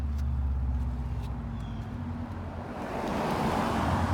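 A Subaru approaches and passes nearby outdoors, its engine and tire noise swelling into a broad rushing sweep toward the end, over steady wind and low background rumble.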